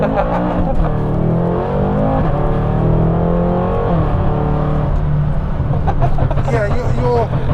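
BMW M6 Gran Coupe with a dual-clutch gearbox accelerating hard, a steady loud engine drone rising in pitch under continuous cabin talk.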